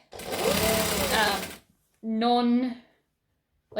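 A sewing machine stitches fabric strips in short whirring bursts with a clear mechanical hum, close up and alternating with pauses.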